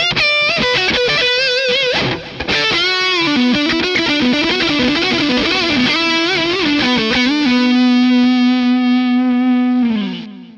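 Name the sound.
electric guitar, neck pickup, Orange Dark Terror amp, rock-blues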